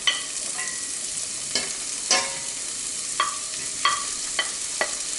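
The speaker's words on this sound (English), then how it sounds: "we're going to saute the onions first in the pot to ramp up that flavor" Onions sautéing in melted butter in a pot, a soft steady sizzle punctuated by several sharp spoon scrapes and clinks against the pot at irregular intervals, close and moderately loud, without talk.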